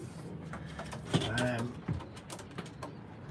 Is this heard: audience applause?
no